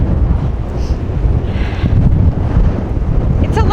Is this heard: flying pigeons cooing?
no